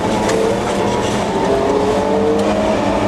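Steady, loud engine drone of a Wartburg 353W Tourist being driven, sustained at constant revs with road and wind noise and a faint rising whine, no talking.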